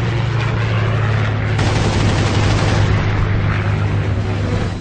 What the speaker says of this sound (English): I fired a very short burst.